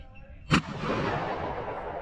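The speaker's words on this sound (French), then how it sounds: "Encore un joli coup de fusil pour ce tracker." A single sharp shotgun blast during a partridge and pheasant hunt, loud and near, its boom trailing off into open-air reverberation and faint outdoor background.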